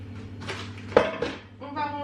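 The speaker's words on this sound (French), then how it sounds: "Donc on va faire un petit peu de vaisselle." Dishes, pots and cutlery clatter in a home kitchen sink during washing up, with a sharp clink near one second and lighter knocks after, over steady low hum.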